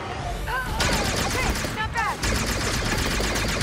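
Blaster gunshots in the video game Star Wars Outlaws, a dense rapid barrage of firing with brief gaps, loud and close, with a voice talking over the fighting.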